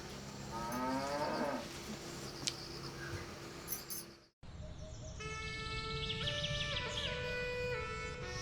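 Cows and buffalo moo in a rural Nepali farmyard, several long drawn-out lowing calls close by, with birds chirping in the background and a brief gap mid-way.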